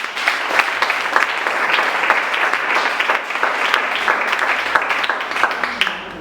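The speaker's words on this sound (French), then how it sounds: "applaudissements." Guests at a civil wedding ceremony applaud loudly and steadily, a dense burst of many hands clapping together that fades out at the end.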